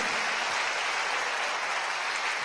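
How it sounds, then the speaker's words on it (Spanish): A church congregation claps together in a dense, steady wash of applause that fills the room evenly for a couple of seconds. "Démosle palmas al Señor, hermano."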